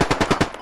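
A short, close burst of automatic fire from a machine gun in a military shooter video game, four or five rapid shots that trail off.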